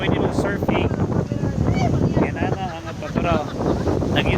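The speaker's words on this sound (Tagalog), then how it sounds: "Kusog ang hangin." Strong seaside wind buffets the microphone at a beach in Liloy, a steady loud rumbling roar throughout, with voices faintly audible underneath.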